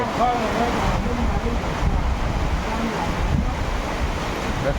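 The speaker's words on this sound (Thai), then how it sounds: "ฝนมาแรงมากๆเลย" Steady roar of heavy wind buffeting the microphone, with a dense wash of rain noise throughout, loud and continuous.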